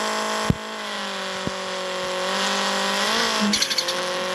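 A Subaru Impreza rally car in the racing game CPM2 holds a steady high engine drone for several seconds, then revs rise near the end with brief tire chirps as it launches. A couple of sharp clicks punctuate the start.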